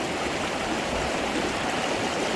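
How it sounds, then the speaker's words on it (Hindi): Steady rushing stream of water flowing downhill, a continuous broadband wash with no pauses and no voices, close and fairly loud throughout. "ये पानी है, बह रहा है"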